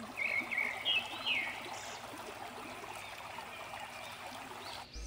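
Cold stream water runs over black rocks in a steady, soft trickle and gurgle, with a few brighter splashy bursts early on, moderately near and fairly quiet.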